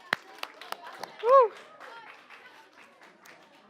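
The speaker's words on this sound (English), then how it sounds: "Everyone give a round of applause" A few scattered hand claps ring out at a school science demonstration, followed by a short whooping cheer, with talking and background murmur throughout.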